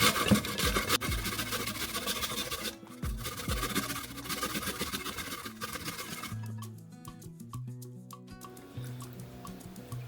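An apple being grated on a metal box grater into a bowl, giving steady scraping rasps at close range that fade to softer, sparser strokes toward the end, with no talking.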